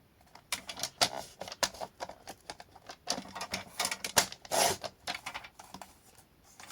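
A craft knife with a dull blade slicing cardboard into 4 cm strips gives a rapid series of scratchy, rasping strokes, close and fairly quiet, with no voice over them.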